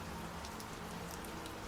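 Steady rain falls at a motel doorway on a stormy night, a soft continuous hiss with faint scattered drip taps, alone and fairly quiet throughout.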